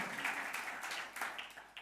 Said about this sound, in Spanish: Alguien déle un aplauso al Señor